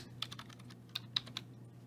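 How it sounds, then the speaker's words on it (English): Computer keyboard keys pressed during Excel spreadsheet work, a handful of light, crisp clicks spaced unevenly over a low steady hum, fairly faint and close, with no talking. "press the F4 key on our keyboard"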